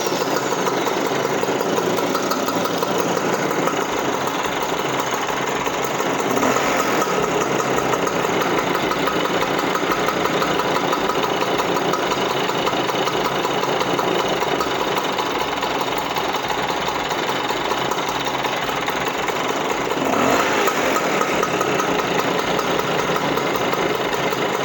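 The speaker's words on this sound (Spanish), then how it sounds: "Venga, arrancamos una vez más" A Vespa 160 scooter engine idling after being started, a loud, steady, close chugging putter holding an even rhythm for the whole stretch with no talking.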